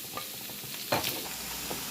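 Onions sizzle steadily in a hot pan while a utensil scrapes and stirs them a few times.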